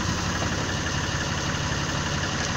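A 2013 Ram 2500 HD's 6.7 liter Cummins diesel idles steadily with a constant low rumble and clatter, close and loud throughout.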